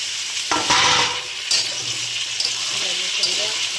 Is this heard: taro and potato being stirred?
yes